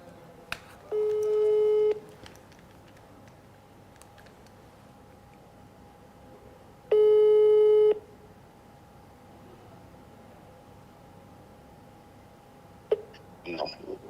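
Telephone ringback tones during a call connection, two long steady beeps about six seconds apart over faint background hiss, followed by a short burst of a voice as the line connects.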